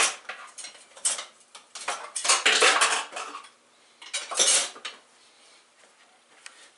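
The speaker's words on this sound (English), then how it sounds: "So I'm going to use a whisk." Batter being beaten by hand with a whisk in a bowl, brisk rattling metallic clatter in irregular bursts, close and loud, with short quieter pauses.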